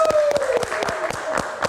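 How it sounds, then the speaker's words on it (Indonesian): A small crowd at a live talk show claps for a guest named Era, giving a short, uneven patter of hand claps at moderate loudness over a faint background tone. "kita kasih tepuk tangan untuk Era"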